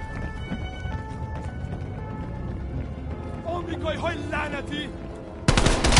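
Video game gunfire in Call of Duty Black Ops Cold War, with rapid automatic shots and game effects under a busy soundscape, ending in a loud sudden burst.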